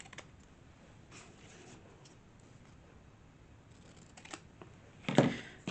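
A brief, sharp snipping burst of scissors trimming cardboard near the end, after several seconds of quiet handling noise and faint ticks.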